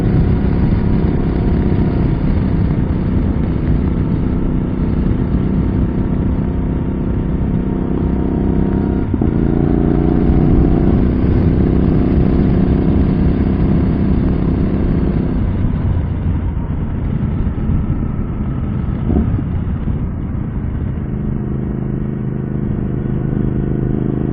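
A Suzuki motorcycle engine drones steadily at moderate speed while the rider is moving, with a continuous rush of wind over a helmet-mounted camera and microphone, loud and close with only slight shifts in pitch.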